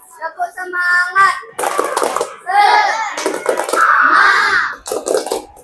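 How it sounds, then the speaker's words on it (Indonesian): A group of schoolchildren at a sports lesson clap in a quick rhythmic pattern, sharp close hand claps mixed with their chanting voices, in short bursts. "Tepuk semangat dulu. Tepuk semangat."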